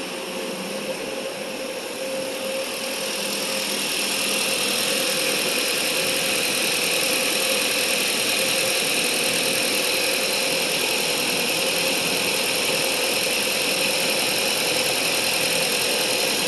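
A 2015 Ford Fusion 2.5L engine idles steadily with a constant mechanical hum and faint ticking, growing slightly louder in the first few seconds and then holding even.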